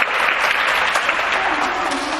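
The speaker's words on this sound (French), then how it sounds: "On applaudit Mariam." A classroom audience of pupils applauds Mariam after her story, a dense, even burst of many hands clapping close by, brief and steady without pause.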